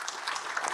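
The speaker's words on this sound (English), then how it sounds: "let's give our panelists another round of applause." Brief burst of audience applause for panelists at a lecture, a fairly quiet wash of many hands clapping.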